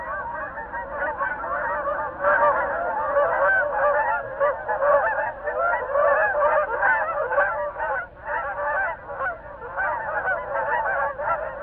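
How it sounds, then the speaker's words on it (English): Flock of Canada geese honking in flight on spring migration northward, a dense, continuous chorus of overlapping nasal honks at steady loudness with no voices. "Canada geese, they arrive with a fanfare on their migration to summering grounds in the north."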